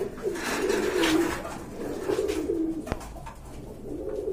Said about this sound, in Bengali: এটা অনেক বড় সাইজের কবুতর